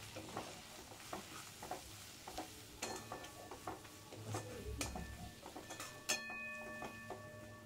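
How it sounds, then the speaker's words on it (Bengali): Spices being stirred into drumstick flowers in a pan: soft scraping strokes and light sizzling come in an irregular rhythm, with occasional sharper clinks of the utensil against the pan. "তো সমস্ত মশলাগুলো দিয়ে একটু নাড়াচাড়া করে নেব।"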